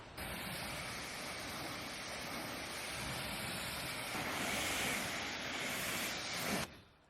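Water spray rinsing a pre-soaked car during detailing, a steady loud broadband hiss of spray hitting paint that swells slightly midway and cuts off abruptly near the end.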